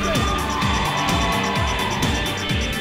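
A live crowd at a radio station anniversary concert in Dallas shouts and cheers for the king, a loud, continuous roar of voices with rhythmic low music pulsing beneath.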